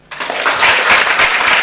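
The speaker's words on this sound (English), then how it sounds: "So maybe one last applause for Lorraine." A festival audience bursts into applause for a speaker, starting abruptly and building into loud, dense clapping from a large crowd.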